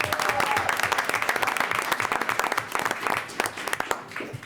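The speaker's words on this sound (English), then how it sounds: "Let's give them a round of applause on their way out." An audience at a school board meeting applauds coaches, dense steady clapping that thins out toward the end.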